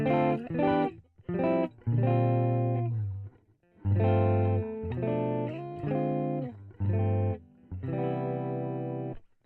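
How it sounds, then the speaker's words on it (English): A clean electric guitar through a Deluxe 65 amp plays a series of ringing chords and short phrases, bright and undistorted, with brief pauses between strums. "That deluxe 65. I think this is a clean sound."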